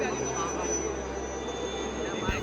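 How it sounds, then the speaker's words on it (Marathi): An Indian Navy helicopter flies past during a naval display at the Gateway of India, giving a steady, continuous engine drone that holds at an even level throughout, with muffled voices underneath. "जे तुम्ही हेलिकॉप्टर येताना पाहत आहे"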